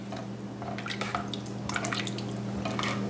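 Twelve ounces of beer poured into a pot of venison chili, a soft steady liquid trickle with scattered drips and splashes over a constant low hum, close and fairly quiet.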